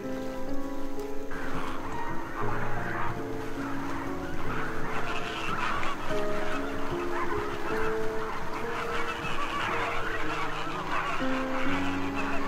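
A large flock of flamingos gathered in the thousands during mating season, with a dense, continuous chorus of honking, goose-like calls layered over one another at steady loudness throughout.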